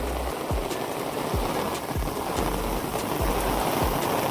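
Heavy rain pours steadily and loudly in Palitana, Bhavnagar, a dense unbroken hiss with repeated low thuds of drops striking a nearby surface, and no voices.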